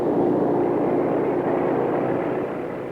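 Aircraft engines roar steadily as Japanese planes launch from aircraft carriers, a loud, continuous propeller drone that holds without pause and fades slightly at the end.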